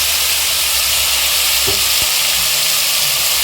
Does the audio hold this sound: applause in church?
no